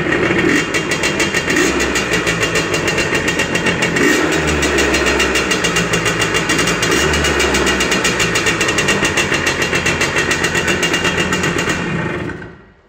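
A two-stroke motorcycle engine, long laid up, runs at a steady, loud idle right after being kick-started, with a fast, even buzzing beat that continues throughout and cuts off at the end.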